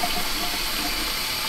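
Water pours steadily into a frying pan holding stock cubes for a steak and kidney pie filling, a brief continuous splashing gush heard alone.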